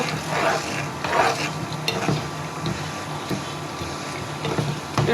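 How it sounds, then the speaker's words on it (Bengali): Pumpkin and mung dal curry with coriander leaves being stirred in a pot, a continuous low sizzle broken by repeated scraping, sloshing stirs of a spoon, close up with no voices. "এ পর্যায়ে ধনে পাতা অ্যাড করে দিব নাড়াচাড়া করে দিব"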